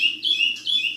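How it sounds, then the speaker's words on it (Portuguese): A chestnut-bellied seed finch (curió), just coming out of its molt, sings clear, high whistled phrases in quick repeated bursts, loud and close, with no voices. "Repete muito bem esse passarinho."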